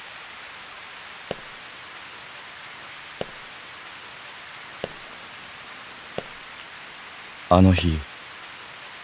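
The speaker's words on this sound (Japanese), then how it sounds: "雨が降っていた。" Steady rain falls quietly and evenly throughout, with a few isolated drip-like ticks, and a short burst of a spoken voice near the end.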